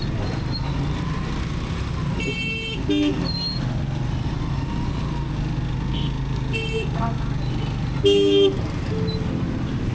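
Heavy, congested traffic in Sargodha, Pakistan, a dense rumble of engines with several short car and motorbike horn toots scattered throughout, heard from within the jam while riding a motorbike.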